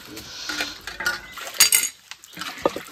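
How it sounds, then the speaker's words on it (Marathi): Dishes are washed outdoors after a meal in the forest, with cutlery and pots clinking in irregular bursts of metallic clatter and chinks, some near and sharp. "आता भांडी धुवून घेतो"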